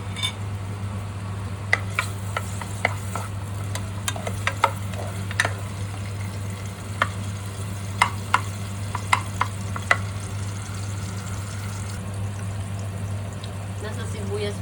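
Onions for chicken adobo sauté in a pan, a soft sizzle with scattered sharp clicks of a spatula against the pan over a steady low hum, with brief talk mixed in.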